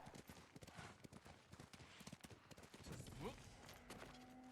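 Hooves clip-clop in an uneven, quick rhythm as a horse moves in the samurai video game Ghost of Tsushima, mid-loud with a rising tone and a sharp hit at the end.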